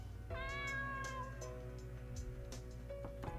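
A cat meows in an RPG Maker game, a long drawn-out call followed by a few shorter meows over a steady low synth music bed, with soft chime-like blips scattered through.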